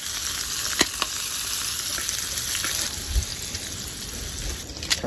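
Generous olive oil with grated raw garlic sizzles and fries steadily in a pan at an outdoor backyard camp cook, a dense, even crackle with a few louder pops and no voices.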